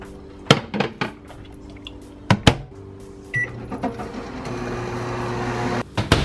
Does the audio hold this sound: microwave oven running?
yes